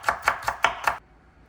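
A knife dices celery on a cutting board with five quick, crisp chops about a fifth of a second apart, close and fairly loud, then stops abruptly into near silence.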